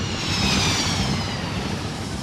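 An F/A-18E/F Super Hornet jet roars steadily in flight, a loud, close, broadband engine rush holding level for a couple of seconds with no talking.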